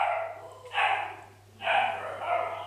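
A pet dog barks twice, two hoarse, drawn-out woofs about a second apart, fairly faint and a little distant over a steady low hum, with no talking.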